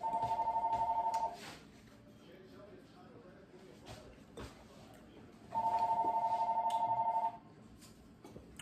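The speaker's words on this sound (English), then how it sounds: "You pay no attention to that phone ringing" A telephone rings in two bursts, each an electronic warble about a second and a half long with a pause between, fairly loud in a room with low background noise.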